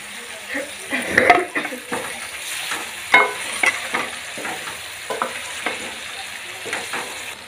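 Tomatoes added to frying masala in a pan and stirred, in a Pakistani home kitchen: a steady sizzle with scraping spoon strokes and occasional clinks of utensil against the pan.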